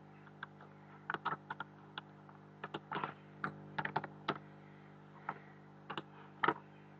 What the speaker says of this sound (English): Let's try typing in kid.